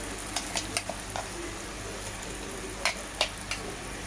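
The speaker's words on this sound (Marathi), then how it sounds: "त्यानंतर मी अद्रक कोथिंबीरची पेस्ट टाकत आहे." Ginger and coriander paste sizzles softly in a pan for egg biryani, with a low frying hiss punctuated by several sharp clinks and scrapes of a spoon against the pan.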